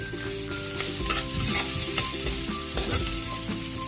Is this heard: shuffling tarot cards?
no